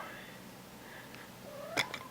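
A cat gives one short, fairly faint meow near the end over a quiet hiss of room noise.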